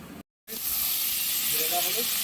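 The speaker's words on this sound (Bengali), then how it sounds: "তার সঙ্গে দিয়ে দিচ্ছি পাঁচ ফোড়ন এই পাঁচ ফোড়ন শুকনো লঙ্কার এই ফোড়নটা পড়লে এত সুন্দর একটা গন্ধ বেরোয়" Panch phoron spices and dried chilli dropped into hot oil, giving a loud, steady hiss of sizzling that starts after a brief silent gap and carries on at close range.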